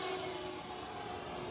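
An FMS F7F Tigercat 1700mm twin-propeller RC model plane drones steadily overhead at a moderate distance, a smooth sustained engine hum with a faint whine, no talking.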